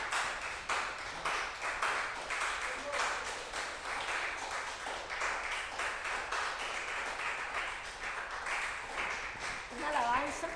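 Church congregation applauding during a Spanish-language service, steady rhythmic clapping throughout with voices mixed in and talk rising near the end.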